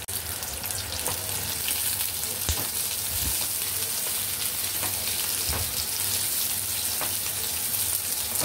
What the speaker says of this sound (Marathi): आपण त्यामध्ये कांदा टाकून द्यायचा आहे. कांदा, हिरवी मिरची टाकून द्यायची आपण त्याच्यामध्ये.